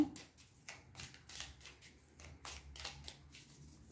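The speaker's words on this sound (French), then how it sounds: "on va demander s'il y a encore d'autres cartes à nous sortir" Oracle cards are shuffled by hand in a quiet room, a series of soft papery riffles and flicks repeating in short bursts about every half second, close and faint.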